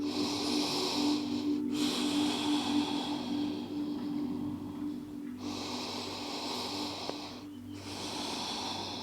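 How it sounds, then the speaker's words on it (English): Slow, deep breaths during a yoga side stretch, close and airy, with two long inhale-exhale cycles under a soft steady background tone. "Take 2 deep breaths."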